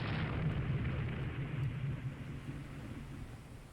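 A torpedo strike explodes in the naval strategy game Rule the Waves 3, heard as a loud, rumbling low blast that rolls on steadily and slowly fades, with no talking.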